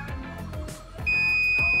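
A multimeter on continuity mode tests a three-leg fast recovery diode. After some faint handling clicks, it gives a steady, piercing beep that holds to the end.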